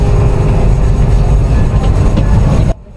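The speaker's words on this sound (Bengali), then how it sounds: "আমাদের ট্রেন কুমিল্লা স্টেশন ছেড়ে দিচ্ছে।" Paharika Express train pulling out of Comilla station, a steady loud rumble of wheels and carriages that holds for nearly three seconds, then cuts off abruptly into near silence.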